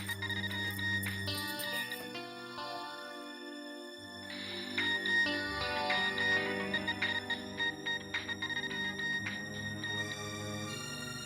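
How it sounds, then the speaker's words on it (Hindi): A mobile phone ringtone plays in a home setting, a bright melodic electronic tune that repeats in phrases for about eleven seconds at moderate loudness, with no talking over it. "लगता है आ गया मेरे बीजू का फोन"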